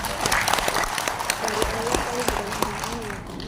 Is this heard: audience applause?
yes